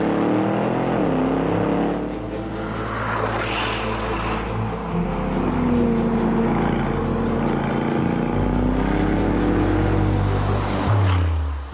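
An Aston Martin DBX 707 SUV drives on Indian roads, its engine roaring loudly and continuously with shifting pitch as it accelerates and changes gear, heard close up.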